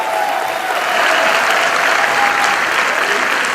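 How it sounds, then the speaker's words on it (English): A roomful of hotel management students at a hospitality convention applaud, a dense and even wash of clapping that holds loud and steady throughout without pause. "clap for yourself because you're doing hotel management"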